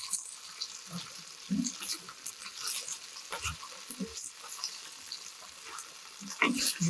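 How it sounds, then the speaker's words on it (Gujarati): Okra fries with red chili in a pan while it is stirred, producing a close sizzle broken by irregular scraping stirs. A voice is faintly heard underneath. "ભીંડાને ચલાવી દઈશું"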